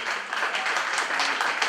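Brief burst of audience applause at a Polish sung-poetry award ceremony, a steady wash of clapping from a hall full of people.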